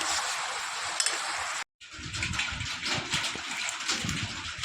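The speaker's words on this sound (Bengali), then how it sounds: "এই যা বৃষ্টি হচ্ছে," Steady rain falls during a rainy day in Bangladesh as a continuous close wash of hiss and patter, broken once by a brief gap, with no voices.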